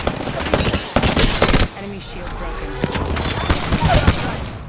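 Bursts of automatic gunfire in the Apex Legends video game, two loud rapid volleys early on, then quieter game ambience with occasional single shots and a voice talking.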